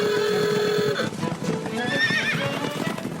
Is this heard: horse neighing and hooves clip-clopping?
yes